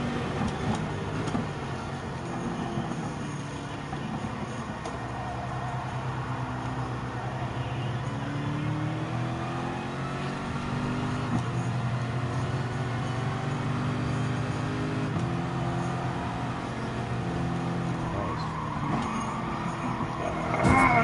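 Race car engine in the GT Sport video game at the Nürburgring, a steady droning motor with rising and falling revs as it shifts through corners, continuous and fairly loud with no talk.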